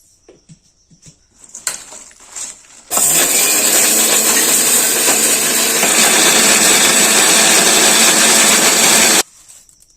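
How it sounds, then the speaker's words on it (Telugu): A mixer grinder coarsely grinding dried chillies starts up and runs loudly for several seconds with a harsh, rattling whir, then stops abruptly. "బరకగా మిక్సీకి పట్టుకోవాలి."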